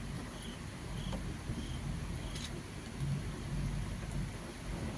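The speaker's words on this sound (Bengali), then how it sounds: "বৃষ্টির আওয়াজও পাওয়া যাচ্ছে" Steady rain pours in the Darjeeling hills, a dense continuous hiss with low rumbling undertones and a few faint higher chirps, heard evenly throughout with no voices.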